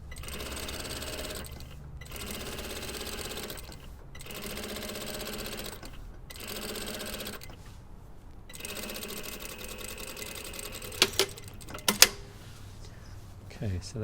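A sewing machine stitches shirt fabric along a centre front edge in several bursts of rapid mechanical whirring separated by short pauses, ending with a few sharp clicks and taps.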